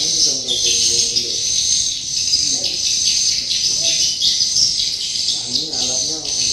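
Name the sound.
birds calling at a swiftlet nesting site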